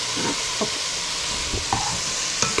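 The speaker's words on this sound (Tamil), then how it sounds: "இப்போ சிக்கனை போடுவோம்" Chicken pieces sizzle and fry in a hot pan for Szechuan chicken fried rice, a steady close crackle broken by a few scraping stirs of a spatula, with no voices.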